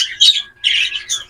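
Pet diamond doves with feather-plucking problems give a few short, bright calls close up, in quick bursts with brief gaps.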